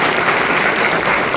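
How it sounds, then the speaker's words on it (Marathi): Audience at a school or education gathering in Nashik applauding teachers, with loud, dense, continuous clapping from many hands that stays steady and close throughout without speech. "सर्व शिक्षकांसाठी खरोखर एक जोरदार टाळ्या द्यायला पाहिजे."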